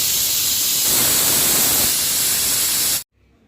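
A pressure cooker cooking dal rice vents steam in a loud, steady hissing whistle for about three seconds, then cuts off abruptly into near silence.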